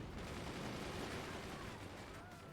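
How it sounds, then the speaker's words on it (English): Rapid crackling gunfire from the artillery-and-fort building game Forts, a dense continuous barrage of overlapping shots and blasts that stays loud and busy throughout. "Just gunfire everywhere."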